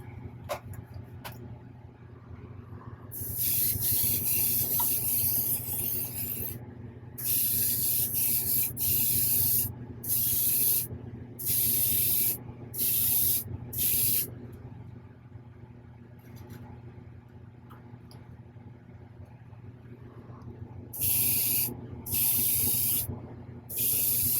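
A spray gun lays down a light coat and then wet coats of paint. Repeated loud hissing bursts, each lasting a second or a few seconds, start and stop over a constant low mechanical hum.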